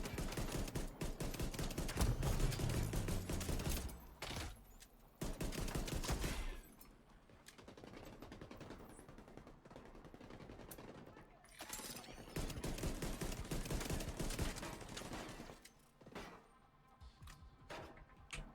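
Pistol gunfire in The Division 2 rings out in bursts of sharp shots, loud and close, with rapid volleys among game effects and brief pauses between firefights.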